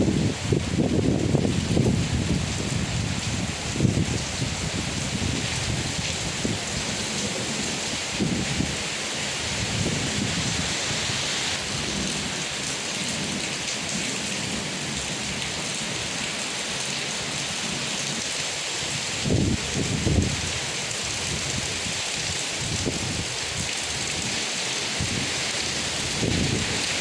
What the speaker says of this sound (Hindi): हवा के झोंके के साथ झमाझम बारिश हो रही